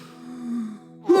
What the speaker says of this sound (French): on va juste se reprendre une grande respiration